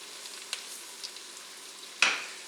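Diced onions cook in melted butter and olive oil, a faint soft sizzle with a few light clicks and one sharper scrape of a stir near the end.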